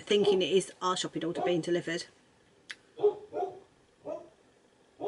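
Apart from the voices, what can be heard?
dog barking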